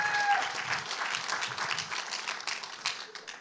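Audience applause at a church healing service as a woman comes forward, steady clapping with a short tonal note at the start, gradually thinning toward the end.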